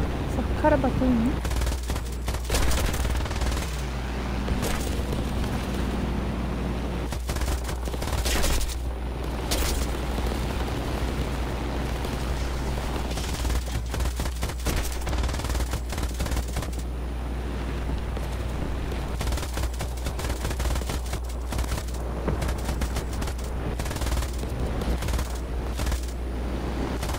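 Machine gun fire in the War Thunder video game goes on until the ammunition runs out, with long stretches of rapid bursts broken by short gaps over a constant low engine drone, while a voice talks at times.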